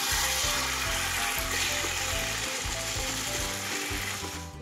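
Lightly fried chicken pieces being stir-fried in a pan, a loud continuous sizzle layered with rhythmic scraping and clattering of the spatula against the pan; no voices.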